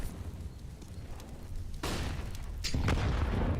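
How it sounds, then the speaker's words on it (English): A frag grenade goes off in an online shooter match, two sharp booms with rumbling tails that land over quieter game ambience, the second one heavier and closer. "Nice frag grenade versus Tabson."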